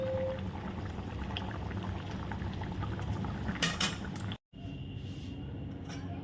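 Vegetable curry bubbling in a pot as fish-frying oil is poured in near the end, a steady close bubbling hiss with a sharper splash and brief clatter, then a short break before the simmer resumes.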